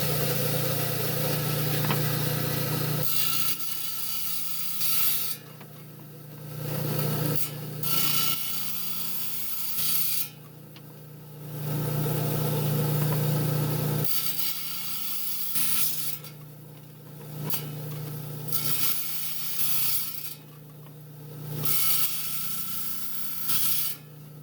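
A trim saw grinds through a piece of Summerville lace agate in repeated passes, its whine rising and falling as the stone is pushed in and pulled back, with no talking.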